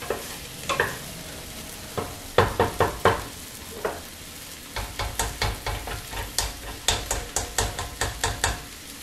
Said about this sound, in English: I'm going to go ahead and add in the tomato paste